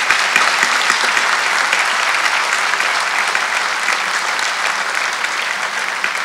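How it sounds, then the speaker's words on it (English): Audience applause at a petroleum industry summit in West Kern: steady, dense clapping from a large crowd, loud and sustained throughout with no break. "let's give a round of applause to all three."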